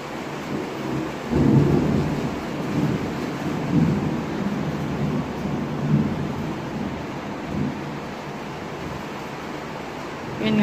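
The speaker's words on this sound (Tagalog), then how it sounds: "Ulan na lang, guys. Kulog tsaka kidlat." Steady heavy rain hisses throughout, with low rumbles of thunder swelling now and then, loud and continuous.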